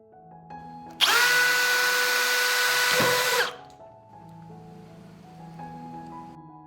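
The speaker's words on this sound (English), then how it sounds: "I will drill a hole in the cover with a 2 mm drill bit" A 2 mm bit drills a hole in a plastic bottle cap: a loud, steady, high-pitched power-drill whine runs for about two and a half seconds and then stops. A quieter tonal hum is heard before and after.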